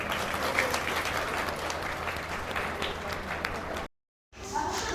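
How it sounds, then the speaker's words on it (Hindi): An outdoor crowd at a gaushala beside a Kaal Bhairav temple applauds to welcome the founder, steady mass clapping with voices mixed in, cutting out abruptly to silence near the end before resuming. "एक बार जोरदार तालियों के साथ अभिनंदन स्वागत।"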